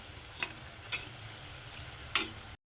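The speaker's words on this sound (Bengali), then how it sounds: "কত সুন্দর ভাজা হচ্ছে আর কতটা ফুলে উঠেছে সেটা দেখুন" Semolina langcha sweets deep fry in oil, a soft steady bubbling sizzle with a few sharp crackles and pops, close and fairly quiet, cutting off abruptly at the end.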